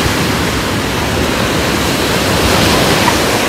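Sea waves on a beach produce a steady, loud roar of surf that rushes continuously without pause, with no voices present.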